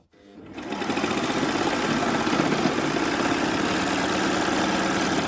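A Babylock Acclaim overlocker starts up and runs fast over a heavy denim seam, a loud, steady mechanical whir and rattle rising within the first second and holding evenly, close by.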